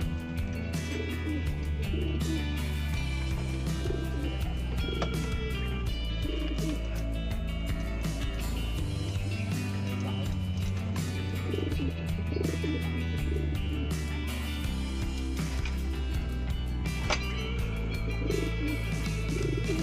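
Pigeons from Pampanga coo among other birds in a loft, with steady low rhythmic coos over a busy, continuous background of chirps and rustling, fairly close and loud throughout.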